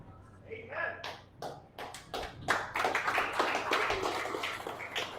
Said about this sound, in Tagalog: Ang mga pumapalakpak